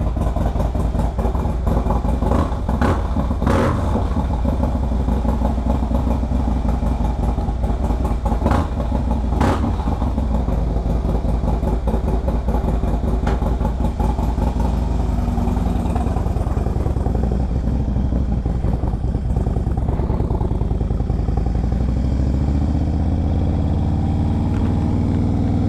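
A 2017 Harley-Davidson Breakout ProStreet motorcycle on a ride, its deep, throaty engine droning steadily and close throughout with occasional throttle surges, the note easing off toward the end.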